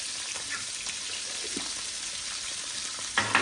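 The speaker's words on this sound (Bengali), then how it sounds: "এখন ভালো করে আগে চিকেনটাকে ক্রিস্পি করে নিব" Chicken pieces crisping in a hot pan with garlic powder and herb salt, giving a steady, dense, close sizzle that runs throughout, with a brief clatter near the end.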